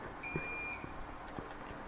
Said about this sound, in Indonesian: May nag-beep, oh.